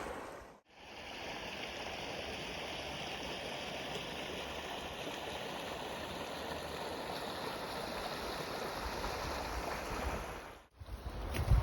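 A cold glacial river flows fast and loud nearby, a steady broadband rush of water that continues unbroken, with two short gaps where it cuts out and no talking.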